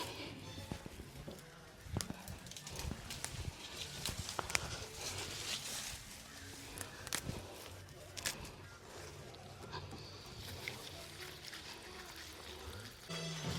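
Water splashing and trickling over fresh home-grown curry leaves as they are rinsed by hand, a steady wet patter with scattered sharper clicks and knocks throughout.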